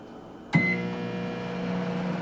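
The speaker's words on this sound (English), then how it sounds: "we're gonna take our lemon water and we're gonna place it in the microwave, close the door, and we're gonna set it for" A microwave oven heating a bowl of lemon water starts with a sharp click, then settles into a steady humming drone with a faint tonal whine, close and alone.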